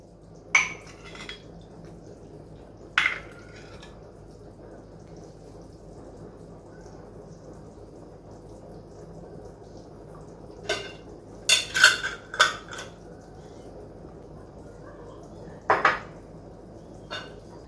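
A spoon stirs a tomato and pepper breakfast sauce in a pot, making sparse, faint metallic clinks and scrapes at irregular intervals, with a few quick clusters of knocks against a quiet background.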